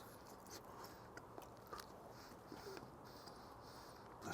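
Quiet crunchy bites and chewing on smoked turkey breast skin cooked over direct heat on a Kamado Joe, soft close mouth sounds under a faint steady background with no talking.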